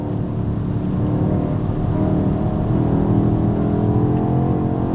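A BMW X6M SUV drives hard on the Dijon race circuit, its engine a loud, steady low rumble heard from inside the cabin, running continuously with no voices.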